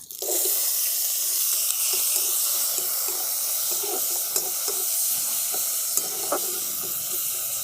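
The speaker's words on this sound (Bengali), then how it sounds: "সেই সময় দিয়ে দিচ্ছি কেটে রাখা টমেটো আর কাঁচা লঙ্কা" Chopped tomato and green chilli hit hot oil seasoned with cumin and asafoetida, giving a steady, close sizzle and hiss with occasional stirring clicks.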